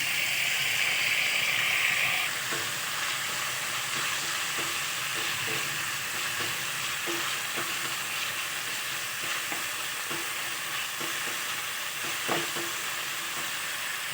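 Beef marinated in soy sauce and oyster sauce fries in a pan for garlic pepper beef, giving a dense, steady, loud sizzle with occasional light stirring clicks, close and alone.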